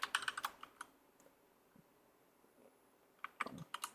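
Code being typed on a computer keyboard, a quick burst of clicking keystrokes, a near-silent pause with a few stray taps, then another rapid run of keys, close and fairly quiet.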